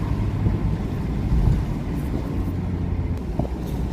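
Mazda MX-5 Miata rolls over a rutted road, tires thumping and bumping under a low engine drone and wind buffeting, close and moderately loud, no speech.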